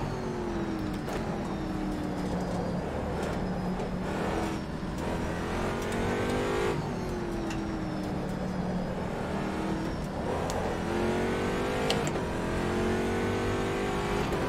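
Race car engine in the rFactor 2 racing game at Sebring, a continuous loud drone with rising and falling revs through gear shifts and accelerations, heard alone without talk.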